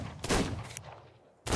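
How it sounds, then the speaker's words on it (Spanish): Pistol shots in the video game ARK: two loud, sharp bursts about a second apart, each with a brief crackling tail, heard alone. "¡Qué buen balazo esta pistola!"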